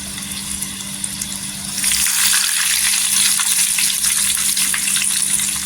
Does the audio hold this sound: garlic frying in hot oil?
yes